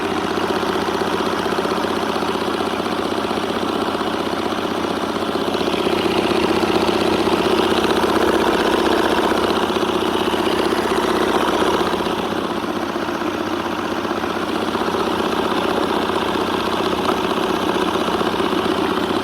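A Sinolink DM-D166 cordless wet mop cleaner runs after its button is pressed, giving a steady, close motor hum with a faint rumbling vibration that holds evenly throughout.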